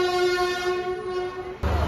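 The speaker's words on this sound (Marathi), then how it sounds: "गाडी इली आज टायमिंगवर इली" A Konkan Kanya Superfast Express train horn sounds a long, loud, sustained tone as it arrives at a station, then stops abruptly as a heavy rumbling of rolling wheels takes over.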